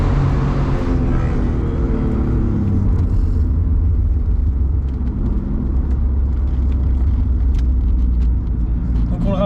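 An Alfa Romeo Spider 916 phase 2 with the 3.0 24-valve V6 of 218 hp and a mostly original exhaust line drones on the road, a loud, continuous low engine rumble heard from on board.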